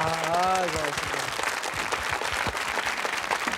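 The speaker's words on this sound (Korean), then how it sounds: "여러분 박수 주십시오." A studio audience on a Korean army variety show applauds a sergeant. Dense, steady clapping fills the whole clip, with a brief voice speaking over its start.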